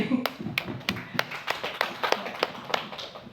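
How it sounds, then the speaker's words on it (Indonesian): A small group at a teachers' positive school culture session claps for a participant, about a dozen sharp, distinct hand claps in a loose, uneven rhythm, fairly close and not very loud, with light room murmur. "Tepuk tangan dulu untuk Bu Muji."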